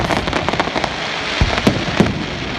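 Fireworks go off over Poole Quay, a dense crackling and fizzing spread across the whole stretch with several sharper pops, heard at a moderate distance over a steady outdoor background.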